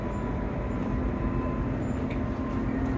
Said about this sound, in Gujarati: બધી ટ્રેન આવી રીતના મેટ્રો હોય છે